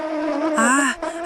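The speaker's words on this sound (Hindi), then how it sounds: "मीतू पेड़ पर मधुमक्खी का छत्ता हिला देता है" Cartoon bees buzz from a shaken beehive, a close, droning swarm hum that swells and shifts pitch, rising in a louder wavering burst midway before settling back.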